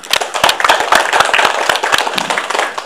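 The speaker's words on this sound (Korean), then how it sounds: "다시 한번 박수 한번 부탁드리겠습니다" Audience applause at a policy meeting on restoring the Buan town fortress: a dense, steady patter of many hands clapping nearby, lasting for about three seconds with no speech over it.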